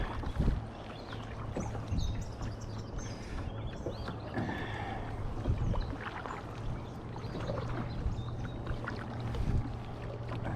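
Scraping and swishing as the hull of a Teton Angler 100 kayak drags through shallow lake weeds, with soft water splashes and paddle knocks close by.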